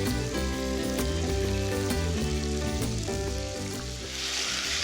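Sugar caramelizing in a hot pan for a beef and pumpkin stew, a loud close sizzle with bubbling pops, under a musical backing track.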